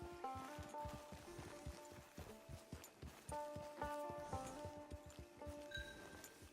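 Horse hooves clip-clopping at a steady walking rhythm in the video game Red Dead Redemption 2, quiet and even, with soft musical tones underneath and no talking.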